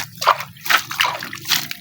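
Collected rainwater sloshes and drips from a container in short bursts, several splashy pulses about half a second apart, close and fairly loud with no talking.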